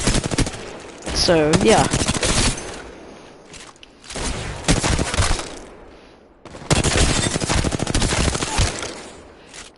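Automatic fire from an R-301 rifle in the video game Apex Legends, heard in three sustained bursts separated by short pauses, with a few brief spoken words between them.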